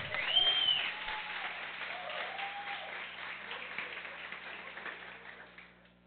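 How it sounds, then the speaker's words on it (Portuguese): Congregation applauding during a church celebration service, a dense, even patter of many hands that swells at the start, holds steady and then fades out at the end. "Aplauda o Senhor, querido."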